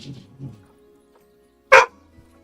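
Dogs give a couple of short yips early, then one sharp, loud bark stands out alone near the end, with quiet gaps between.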